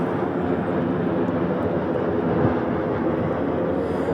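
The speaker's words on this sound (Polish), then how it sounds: "No akurat akurat ten samolot to ląduje." Steady broadband roar of a passenger airplane coming in to land, a constant engine and air rush that holds at the same fairly loud level throughout with no voices.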